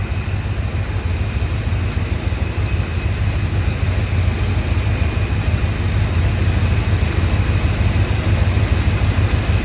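A car engine idles steadily after work on its exhaust header, giving a continuous low, even rumble at close range for about ten seconds, with no one speaking.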